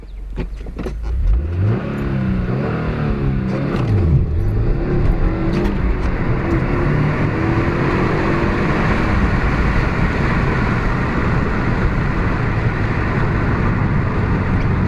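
A car engine revs hard and launches from a standstill out of a turn, loud and close, with a rising roar that holds steady and strong to the end.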